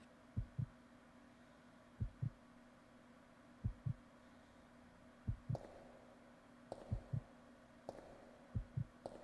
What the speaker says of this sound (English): A heartbeat sound effect is included in the background to further build on the tension of entering the next